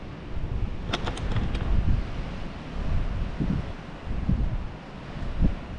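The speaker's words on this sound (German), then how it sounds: "Komplett windig." Strong wind gusting at a lookout above waterfalls in Chapada Diamantina, a steady loud rush buffeting the microphone with swelling low gusts and a few brief high clatters, no voices.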